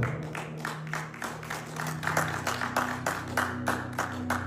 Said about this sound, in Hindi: एक बार अपने लिए ताली बजाओ